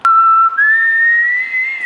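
A person whistles a single sustained, clear tone that steps up slightly in pitch after a brief break, close and loud in a quiet setting.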